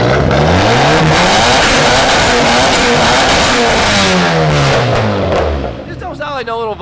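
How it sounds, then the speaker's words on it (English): A BMW E36 swapped with a VW 1.8T turbo engine revs hard repeatedly, pitch sweeping up and down in loud close surges, then dropping away as people start talking over the idle. "This don't sound like no little Volkswagen engine"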